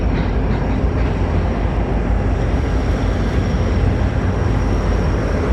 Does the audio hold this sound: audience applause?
no